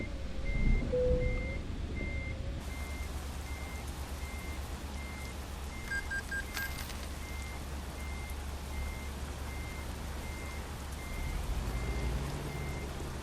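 Regular reversing beeps from a truck backing up in the video game American Truck Simulator, an evenly spaced high electronic tone repeating over a low steady engine rumble, with a brief air hiss partway through.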